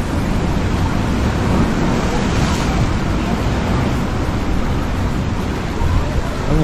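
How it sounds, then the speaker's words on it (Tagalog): Ocean surf washes in at a beach near Avalon in Sydney, Australia, a loud, continuous rushing hiss with a slight swell, close by and alone. "yung salpok ng tubig. Salpok. Nakaka-relax din ang ganyang sound eh."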